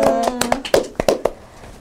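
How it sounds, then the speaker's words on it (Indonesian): About a dozen sharp, close hand claps in a loose, uneven rhythm, a tone humming under the first few, then fading to quiet room noise. "Keren banget, tepuk tangan dong."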